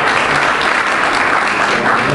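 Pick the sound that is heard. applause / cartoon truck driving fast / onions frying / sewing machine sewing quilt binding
applause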